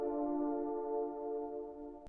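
Piano notes sustain in a wash of heavy, wet reverb with a long decay. The tone fades gradually and is clipped by a sharp click just before the end.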